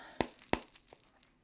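Cards shuffled briefly during a spiritual card reading: a few sharp, papery snaps and crinkles, close and quiet, with no voices.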